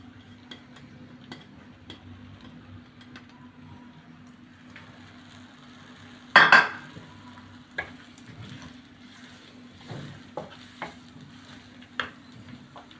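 Onions frying in oil in a pan, with a loud burst of sizzle partway through, then a soft, steady crackle and occasional stirring clicks, no voices.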